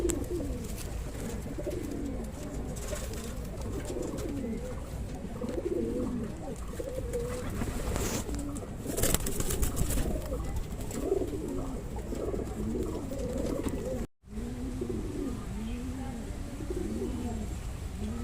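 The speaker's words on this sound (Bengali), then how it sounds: "এটা ওই একই পালসার পায়রা।" Madrasi pigeons coo close by in repeated soft, rolling calls over a faint background hiss, with a brief dropout near the end.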